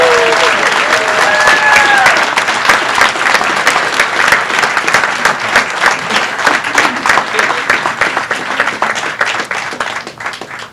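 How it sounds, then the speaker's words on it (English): A crowd at a national art exhibition event claps steadily for about ten seconds and slowly fades, with a few voices heard briefly at the start. "Big round of applause."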